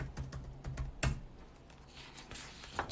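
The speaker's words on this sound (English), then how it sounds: "I'm typing in Eric Cartman like I need the Eric part." Typing on a computer keyboard, a quick run of light clicking keystrokes followed by a few scattered taps, close and fairly quiet with no talking.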